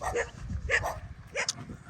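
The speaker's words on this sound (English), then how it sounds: "Everybody's got dogs here" Dogs in a rural Philippine neighborhood bark in a quick series of sharp yips and barks, fairly close and loud, filling the short moment without talk.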